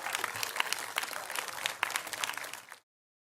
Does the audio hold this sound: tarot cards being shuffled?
no